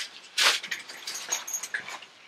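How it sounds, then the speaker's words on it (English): A small dog makes snuffling, shuffling noises nearby, in short irregular bursts that open with one louder rustle and then taper into softer scratches against a quiet room. "That noise you hear is my dog"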